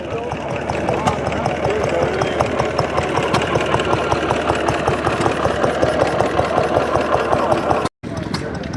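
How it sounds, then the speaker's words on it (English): Several stationary engines chug steadily nearby at the Pembrokeshire Classic Car Show, a loud rhythmic mechanical knocking that runs on continuously before a brief cut. "Some of these engines are quite big."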